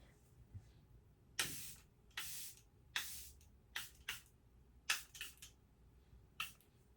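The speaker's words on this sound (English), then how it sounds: "I just love the setting spray, like, to its core." A bottle of Charlotte Tilbury setting spray is pumped in about nine quick, sharp hissing spritzes, close and crisp, some coming in rapid pairs and others spaced apart, with quiet room background between them.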